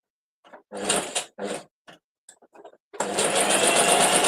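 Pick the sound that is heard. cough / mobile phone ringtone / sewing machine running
sewing machine running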